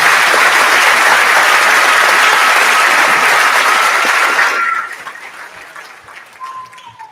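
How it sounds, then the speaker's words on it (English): Loud, dense applause from a crowd at a middle school grade 8 moving-up ceremony fills the first few seconds, then drops off sharply, leaving quieter scattered claps and room noise. "So just a round of applause to the 8th grade team, who is among the best we have."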